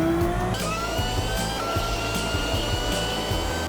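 The Genesis VGT in Gran Turismo 7 accelerates out of a turn at Circuit de Sainte-Croix, its engine a loud, steady high-pitched whine that climbs through the revs with brief shift dips, continuous throughout.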